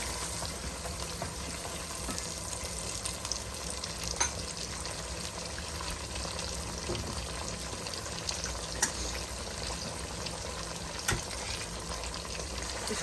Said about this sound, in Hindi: इसको हम 2 मिनट भूनेंगे।